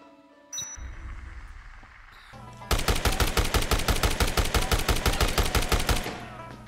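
Machine gun fire in Dead Rising Deluxe Remaster: a loud, rapid string of evenly spaced shots lasting a few seconds after a short quieter stretch of game noise, then cutting off.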